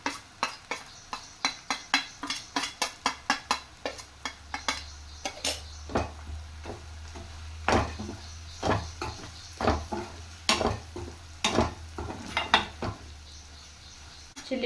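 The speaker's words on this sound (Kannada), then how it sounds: "ಅದನ್ನು ಹಾಕಿ ರೀತಿ ಫ್ರೈ ಮಾಡ್ಕೊಳ್ಳಿ ಚೆನ್ನಾಗಿ" A metal spoon repeatedly clinks and scrapes against a pan while coriander powder and spices are stirred and fried, rapid rhythmic taps at first, then slower irregular knocks over a faint low sizzle.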